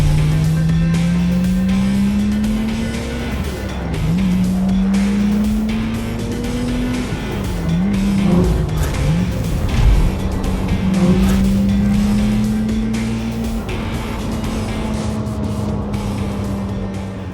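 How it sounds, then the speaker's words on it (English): A 2001 Porsche 996 RUF RT12 drives with a loud, steady engine drone that rises through several gear changes, heard from inside with road noise and no talking. "This 2001 Porsche 996 Ruf RT12."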